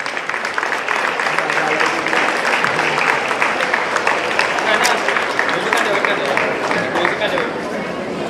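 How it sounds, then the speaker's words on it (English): An audience at a district-level science quiz gives a sustained round of applause for the winners, steady dense clapping lasting throughout, with crowd chatter mixed in. "Huge round of applause for them,"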